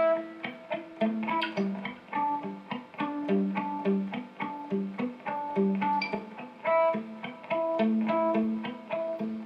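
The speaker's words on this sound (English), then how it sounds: "But there is a muted part underneath that I think we should cover too." A palm-muted electric guitar part from a song chugs along in a steady rhythm of short, damped notes, played alone.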